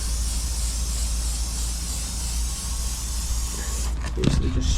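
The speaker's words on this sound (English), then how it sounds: "Basically just spray it" A can of fairly thin spray grease being applied along the edges of vehicle shock absorber legs in a workshop, a steady continuous hiss that runs unbroken, with a few clunks and faint rustles near the end.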